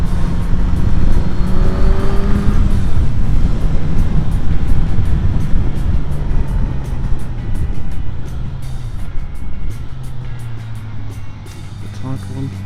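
A Suzuki GSX-S 1000GT motorcycle engine drones steadily and loud throughout an onboard ride over the snowy Grimsel Pass in Switzerland, with rising and falling pitch as it shifts gears, under heavy wind rush and a voice talking.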